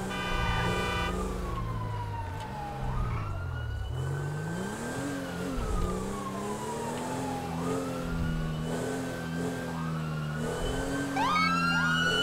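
A fire truck or ambulance siren wails and sweeps up and down in the GTA FivePD police game, loud and continuous over engine rumble, with a brief burst of faster yelping near the end.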